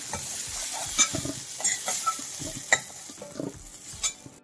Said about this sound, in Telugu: కొంచెం ఎర్రగా అయ్యేదాకా వేయించుకుంటే కొంచెం వేగాక ఈ ఉప్పు కారం దీనికి పట్టాక తీసేద్దాం దుంపలకి